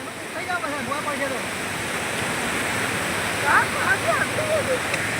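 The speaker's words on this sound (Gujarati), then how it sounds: "સરસ્વતી નદીમાં નવા નીર આવ્યા" The Saraswati river rushes with fresh floodwater, a dense, steady roar of flowing water, loud and close, with faint voices under it.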